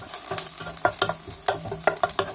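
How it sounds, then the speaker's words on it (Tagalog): Garlic, onions, tomatoes and meat sauteing together in a pan sizzle under a run of repeated scraping and clanking spatula strokes, close and fairly loud, with no voices. "we will saute the garlic, onions, and the tomatoes and our meat together with our meat"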